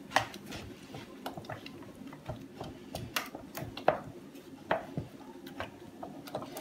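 A spoon stirs a dough mixture in a bowl, giving soft, irregular clicks and wet squishing taps that repeat quietly and close by.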